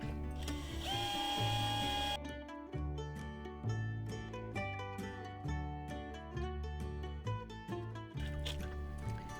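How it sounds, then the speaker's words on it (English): A power drill mixing potting mix in a fabric grow bucket whirs and ratchets at low speed, with repeated grinding, clicking pulses and a high whine at the start, close and continuous. "he runs his drill really slowly so he doesn't grab the fabric"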